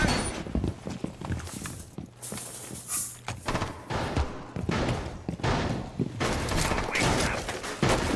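Gunfire in an online shooter game, bursts of shots and mechanical clicks of a magazine being swapped, loud and irregular, mixed with footstep-like thuds and clatter.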